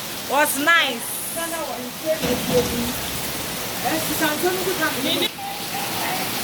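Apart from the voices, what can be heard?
rain falling during a rainy weekend in Ghana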